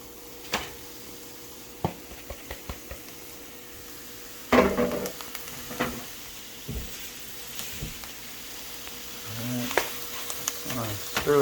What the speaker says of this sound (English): now I'm going to add the ground beef